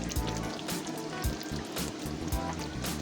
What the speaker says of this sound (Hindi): मसाला हमारा अच्छे से भून गया।